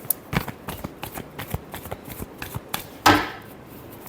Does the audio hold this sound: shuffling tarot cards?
yes